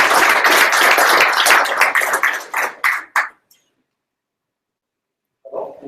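A small audience at a software developer meetup claps for the incoming speaker, brisk close applause that thins to a few scattered claps and stops, then silence before a voice begins.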